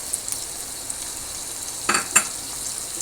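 Spices for garlic pickle frying in oil in a pan, a soft, steady sizzle broken by a couple of brief scraping stirs near the middle.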